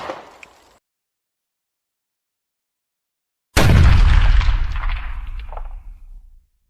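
A single loud blast from a Taurus Judge revolver at a shooting range, a sharp sudden crack with a booming tail that decays over a couple of seconds after a long quiet pause.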